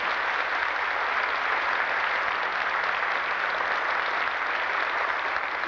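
A large audience at a tribute concert and anthology presentation honoring Epifanio Méndez Fleitas gives steady, dense applause that blurs into a continuous wash of sound, moderately loud, with no talk.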